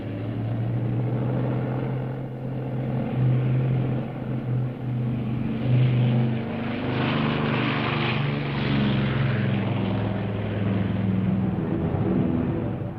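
New Zealand Corsair fighter plane in flight over Bougainville during WW2, a steady loud propeller engine drone with a slowly swelling roar, heard alone with no talk.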